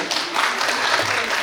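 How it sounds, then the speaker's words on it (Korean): Audience clapping in a school information session hall, a short dense burst of applause from many hands, loud and steady throughout. "박수 한번 쳐주실래요?"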